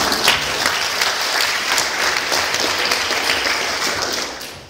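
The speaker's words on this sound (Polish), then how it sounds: "Brawa dla pana Lorenza!" Lecture audience applauding one of its members during a talk on technology miniaturization, a full burst of clapping at steady volume that tapers off at the end.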